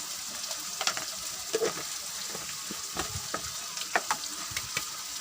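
Masala spiced with garam masala fries in a pan for a qeema karela dish, giving a steady bright sizzle dotted with sharp crackles and pops, close and unbroken throughout.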